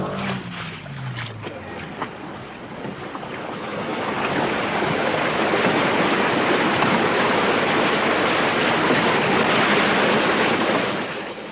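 Seawater rushing into a sinking boat at sea: a brief falling tonal sound at first, then a loud, continuous broadband roar of gushing water and wind that builds after about four seconds and holds steady to the end.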